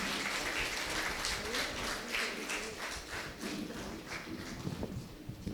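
Audience applause for Sister Mary Kranthi Kumari at a parish gathering in Prodduturu village, Kankipadu parish: dense, steady clapping from a crowd that fills the whole stretch, with faint voices underneath.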